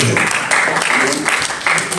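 A church congregation claps and applauds steadily during a prayer and fasting service, with a voice briefly audible beneath the applause.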